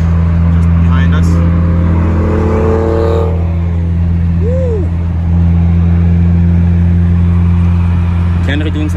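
A car rolls by on the road with its engine humming and revving steadily under excited talk and a shouted cheer, the engine drone close and loud throughout.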